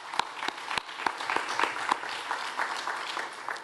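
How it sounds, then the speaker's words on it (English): Audience applause at a downtown annual meeting, a steady wash of many hands clapping with a few sharper nearby claps standing out, moderately loud and continuous throughout. "Can we give a round of applause to Gigi Murphy?"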